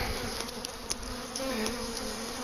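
Honey bees swarm around an open hive during a spring brood check, a steady, close, dense buzzing with individual bees droning past now and then.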